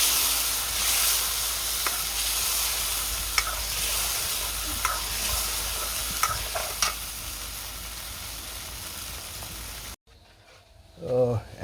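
Khichuri ingredients with ginger-garlic paste fry in hot oil, a steady close sizzle and hiss with occasional stirring clinks, ending abruptly as someone speaks briefly over quieter background.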